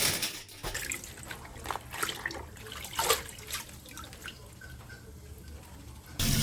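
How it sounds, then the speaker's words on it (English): Running water from a kitchen tap as lettuce and other vegetables for a hot pot are washed in a sink, a steady trickle with scattered splashes and drips, fairly close and moderately loud, with no voices. "First, I'll wash the vegetables."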